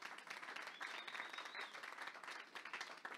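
Applause fills a church service in Vendée, a dense, steady clapping from a congregation throughout, fairly close, with a brief high whistle-like tone partway through.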